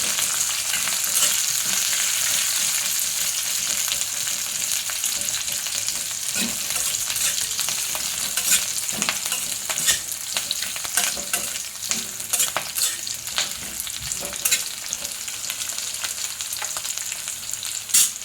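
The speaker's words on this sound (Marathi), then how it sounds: "सर्व असं चांगलं फ्राय करायचं तेलामध्ये नंतर कढीपत्ता टाकते मी" Curry leaves fry in hot oil in a pan for amla chutney, a continuous close sizzle with the crackle and spatula scraping growing busier toward the end, no speech.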